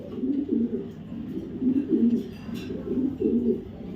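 Racer pigeons coo in soft, repeated low throaty phrases, close by at a pigeon farm, with a faint background murmur.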